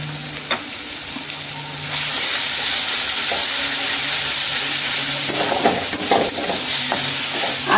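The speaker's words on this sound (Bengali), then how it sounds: "আদা থেকে কাঁচা গন্ধটা যাওয়া পর্যন্ত আমি আদাটা ভালো করে 1 থেকে 2 মিনিটের মতন করে ভেজে নেব।" Grated ginger frying in hot oil in a pan, a steady close sizzle that jumps louder partway through, with scraping stirs and faint clinks over the crackle.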